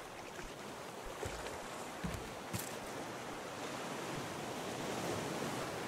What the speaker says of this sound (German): Diese Wellen, ne?